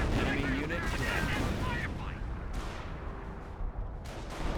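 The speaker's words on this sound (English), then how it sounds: "But the M2 now deployed in the field gets a great shot on the Grenadiers." Heavy machine-gun fire from an M2 in Company of Heroes, aimed at German Grenadiers: dense, continuous battle noise with broadband bursts and rumble, layered with other game combat sounds and talk.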